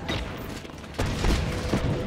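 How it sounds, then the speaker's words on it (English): Explosions and gunfire in Just Cause 3 make a dense, loud barrage, with a heavy blast landing about a second in and further booming bursts close behind it. "Explosions everywhere!"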